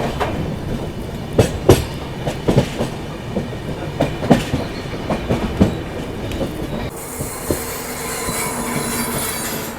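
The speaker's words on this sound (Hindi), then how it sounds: "LTT Mumbai Haridwar AC express." An LTT Mumbai–Haridwar AC Express train rolls past close alongside on a dry ghat section, with rhythmic clickety-clack wheel thumps over rail joints and a steady rumble, then a brighter hissing wash as the coaches keep streaming by.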